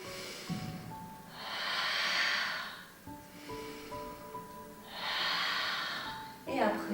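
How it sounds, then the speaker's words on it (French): Slow, steady breathing during a pilates exercise, two long audible breaths through the nose at an even pace, close to the microphone, with a soft voice underneath. "La respiration toujours constante."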